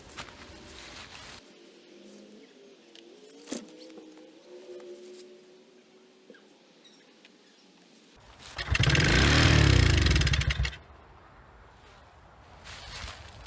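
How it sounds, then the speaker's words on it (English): A Honda ATC200 three-wheeler on choke is pull-started, a few rattling tugs and sputters followed by a loud two-second roar of the small engine catching briefly before dying back to quiet. "Put the carburetor on choke and give it a couple of pulls and see if it would start up."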